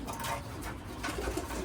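Racing pigeons coo softly in a loft, a brief, faint, low murmuring of several birds with no talking.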